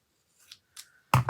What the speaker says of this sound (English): Let's just trim it just a little bit.